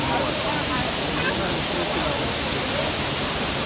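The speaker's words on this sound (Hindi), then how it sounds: "तो दोस्तों ये है वाटरफॉल, बहुत ही खूबसूरत है।" A waterfall roars as a steady, dense wash of falling water, loud and continuous throughout, with no voices breaking through.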